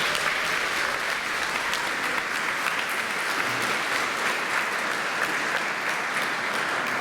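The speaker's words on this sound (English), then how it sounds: "Please, let's give them a round of applause." A school lab coat ceremony audience applauds in a continuous, dense wash of many hands clapping, holding steady at a moderate level for several seconds with no speech over it.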